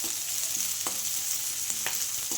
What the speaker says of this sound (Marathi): आता त्यामध्ये टाकूया आपण शिमला मिरची। छान परतवून घेऊया याला